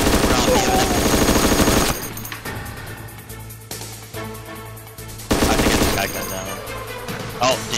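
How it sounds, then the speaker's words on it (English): Bursts of gunfire in the survival game DayZ on the Lingor map, two loud rapid volleys separated by a quieter stretch, with a voice heard in the mix. "Did you gun him down?"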